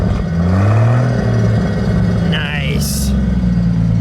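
A 1955 Hudson Hornet Custom four-door's engine runs with a deep steady exhaust rumble, rising briefly in a short rev, close and loud, while people talk over it.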